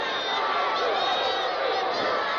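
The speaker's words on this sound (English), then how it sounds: "And listen to the crowd." A wrestling arena crowd makes a steady, broad roar of cheering and noise that fills the whole moment without a break.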